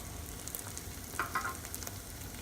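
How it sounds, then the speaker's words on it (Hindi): Onion, garlic-ginger paste and cumin frying in a pan, a soft continuous sizzle with a few light stirring clinks, quiet and close, no talking. "प्याज, लहसुन अदरक का पेस्ट और ज़ीरा फ्राई हो चुका है"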